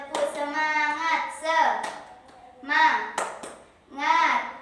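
Schoolchildren in an Indonesian classroom chant a short rhythmic clapping cheer, sing-song young voices with a few sharp hand claps between phrases, close and clear.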